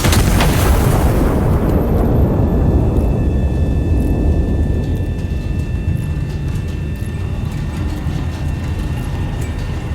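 Artillery gun firing and a shell exploding in the video game Iron Nest, heard as a loud, sustained rumbling boom that fills the whole stretch and slowly decays, with no talking over it.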